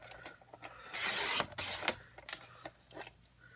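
Paper trimmer cutting cardstock for a Halloween card, a short quiet slicing and rasping stroke up close with soft handling noises around it.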